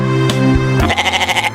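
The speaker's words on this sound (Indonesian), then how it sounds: "Ini suara kambing adik-adik" A goat lets out a short bleat, starting as a steady bawl and breaking into a quick, wavering tremolo before stopping, close and alone without speech.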